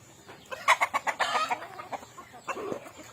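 Ducks quack at close range in a farmyard with other fowl, a burst of several rapid honking calls followed by a shorter squawk.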